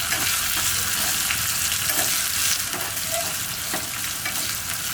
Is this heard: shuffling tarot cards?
no